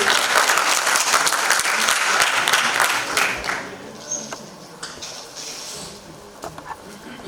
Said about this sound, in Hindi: प्लीज़ एक बार ज़ोरदार तालियां हो जाए सर के लिए।